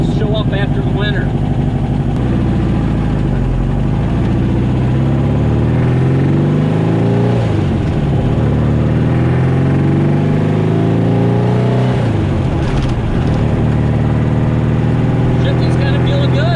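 A 1956 VW Bug's engine runs steadily, loud and close, idling with rising and falling revs as gears are shifted while driving, with someone speaking over it.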